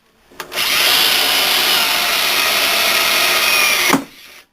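A battery drill bores through steel angle iron in one continuous burst of about three and a half seconds. The motor whines loud and close with a harsh grinding edge, then winds down at the end.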